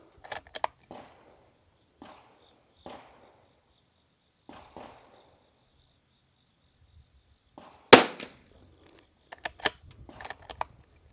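Rimfire rifle shots with RWS R50 ammunition, sharp isolated cracks spaced a second or two apart, with one louder close report followed by a quick cluster of smaller clicks and handling noise.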